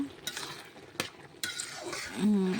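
A spoon stirs a simmering curry in a pan as its liquid cooks down, with three sharp scrapes and clinks over a low sizzle close by.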